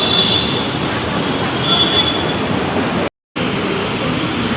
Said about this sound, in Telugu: హైదరాబాద్ మెట్రో ఇది